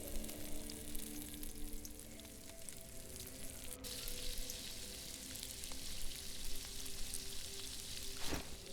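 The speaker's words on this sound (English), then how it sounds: "Sizzle, sizzle, sizzle. Get some juicy wolf steaks." Wolf steaks frying over a fire in the survival game DayZ, a constant close sizzle and crackle that runs steadily throughout, with no voices.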